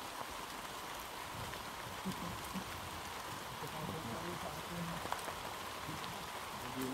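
Steady video-game rain hisses continuously at a moderate level, with scattered drop-like ticks and faint low murmurs beneath the wash.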